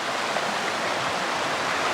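The Bumpin River flows past a log crossing on the Pacific Crest Trail, a steady, full rushing of stream water close by, continuous and unbroken with no voices.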